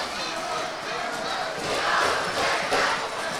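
A packed crowd at a boys' school basketball game roars and cheers steadily, the noise swelling louder toward the middle and staying loud to the end.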